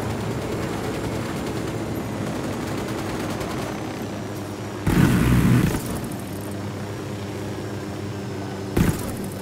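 Vehicle explosion in Ghost Recon Wildlands: a loud, broadband blast bursts midway over a steady rumbling game backdrop, followed by a second, shorter crack near the end.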